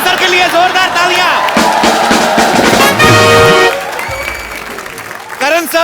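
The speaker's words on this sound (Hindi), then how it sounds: "एक बार करण सर के लिए जोरदार तालियां" A studio audience at a televised Hindi comedy show claps and cheers for a guest, a loud dense burst of applause with crowd noise, mixed with music and voices, fading toward the end.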